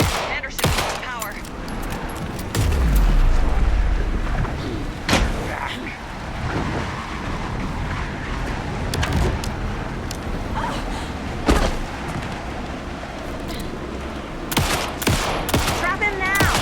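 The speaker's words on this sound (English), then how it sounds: "Anderson, pin him down with gunfire for me to get the light on him" Rapid bursts of gunfire in Alan Wake 2 crackle over a busy mix of engine noise, effects and voices, with sharp shots popping repeatedly throughout.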